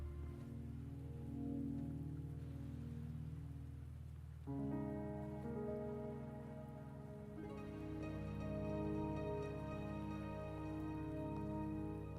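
Rain falls steadily in the video game Wuthering Waves, a constant hiss beneath layered tonal music that shifts and thickens partway through, with no voices.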